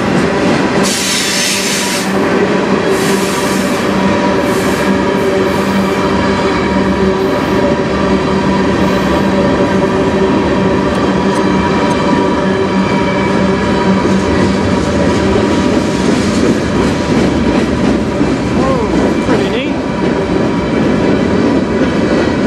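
A long CN manifest freight train on the Strathroy Subdivision rolls steadily past, a continuous dense rumble of rail cars with clattering wheels and occasional faint squeals, loud and sustained throughout.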